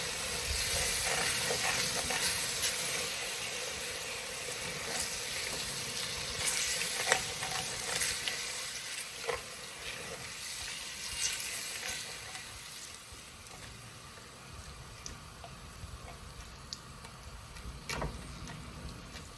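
Onions added to a hot pot for soup, chowder or stew, giving a steady hissing sizzle with scattered pops and stirring clicks, close and fairly quiet with no talk.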